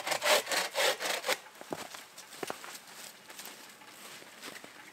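Dry wood being sawn for a winter campfire in the woods, several strong back-and-forth rasping strokes up close, then lighter scrapes and rustling as the work tapers off.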